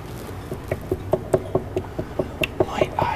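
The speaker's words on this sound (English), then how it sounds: "It's the sound of green goo being spilled on the table." Green goo spilling onto a table makes a steady run of small wet pats and drips, about a dozen soft, evenly spaced plops, close and fairly quiet with no talk.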